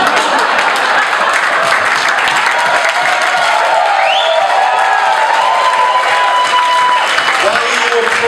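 A comedy club audience at the Roxy applauds steadily throughout, a dense wash of clapping and crowd noise with a few whistle-like tones and some voices mixed in.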